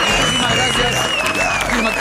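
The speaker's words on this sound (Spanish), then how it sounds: "aplauso para Romina Richie, que estuvo aquí con nosotros" A television studio audience applauds for a guest, a short burst of clapping mixed with a presenter talking over it.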